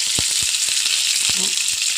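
Neem leaves dropped into hot oil in a frying pan, hissing with a bright, continuous sizzle up close, punctuated by a few sharp pops and crackles.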